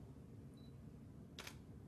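A single crisp shutter click from a DSLR camera, set to f4.5 and 1/160th of a second, taking a portrait in a quiet room, brief and close with no voices.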